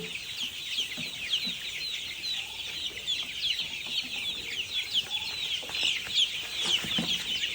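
Chickens on a small farm cluck and chatter steadily while being given feed, a continuous close, busy flock sound with no talking.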